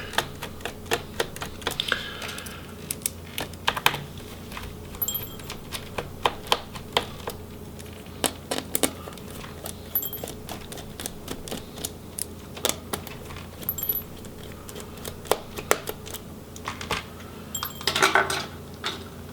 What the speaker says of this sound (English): we're going to start by removing the screws holding on the bottom cover here